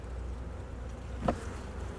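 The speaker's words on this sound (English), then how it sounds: "These yellow jackets are really angry at me." Angry yellow jackets buzz around a beehive during winterization, a soft, steady insect drone with one louder buzz passing close midway, no talking.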